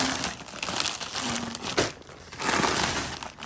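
Plastic grocery bags crinkle and rustle close by in a steady, continuous stream during unpacking, swelling and easing in loudness with no voices over them.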